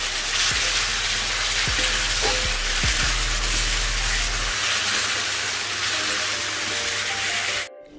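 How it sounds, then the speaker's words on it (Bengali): Egg curry (dim kosha) sizzling in a pan on the stove, a steady broadband hiss and frying crackle running nearly continuously, loud and close, then stopping abruptly at the end. "ডিম কষাটা প্রায় হয়েই এসেছে।"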